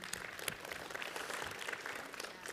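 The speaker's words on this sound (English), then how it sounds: "Can I give you a round of applause for Trudy?" An audience bursts into brief, dense applause for a volunteer at a talk by Yonatan Winetraub at Emanu El, a short wash of clapping with no speech.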